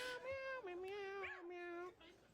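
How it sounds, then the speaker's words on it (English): A drawn-out meow with rising and falling pitch from a video played back on Twitter, a single long wavering call heard fairly faintly. "That one there meowed back, eh?"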